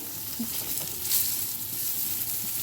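Pointed gourd frying in oil tempered with nigella seeds and dried red chillies, giving a steady, soft hiss of sizzling fat with faint crackles, close by and fairly quiet.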